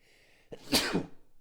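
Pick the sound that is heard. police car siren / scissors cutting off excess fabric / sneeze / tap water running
sneeze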